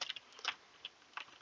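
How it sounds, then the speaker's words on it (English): Quick, light keystrokes on a computer keyboard, a handful of soft clicks in an uneven burst, close and quiet. "I'm just going to type in /clear"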